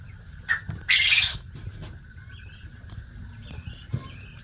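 A Chinese hen calls among poultry kept for quail eggs: one loud, harsh squawking burst, a few short faint chirps around it, and a low steady background hum.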